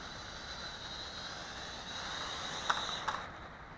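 A UDI U818A-1 camera quadcopter drone comes in to land, its small motors a steady high whine with airy buzz throughout, then two sharp light knocks near the end as it touches down.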